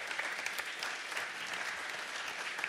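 Applause from a concert audience at a graduation recital at Örebro University, a continuous, even patter of many clapping hands, moderately loud and unbroken for the whole stretch.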